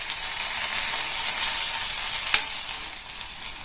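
Brinjal sautés in hot oil in a pan, making a steady, close hiss of sizzling with a brief clink of stirring partway through.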